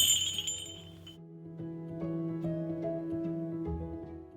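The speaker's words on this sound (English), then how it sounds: "I showed you these real, authentic, very old sleigh bells, and I told you I was going to let you hear them." Very old authentic sleigh bells ring in a quiet farmhouse room: bright tinkling jingles at first, then softer sustained metallic chiming tones with light clinks, close and fairly faint, with no talking.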